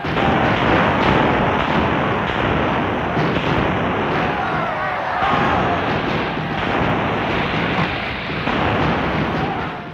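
Artillery fire in the Musket Battles Brigades video game during a Gettysburg battle sounds as a dense, continuous rumble of booming cannon blasts and crackling gunfire that stays loud throughout.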